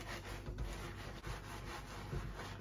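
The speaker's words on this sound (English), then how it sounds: "try and remove the dirt, just scrub" A fencing mask bib being scrubbed with soap and foam, giving a steady, close, wet rubbing texture that runs continuously with gentle back-and-forth swells and no voices.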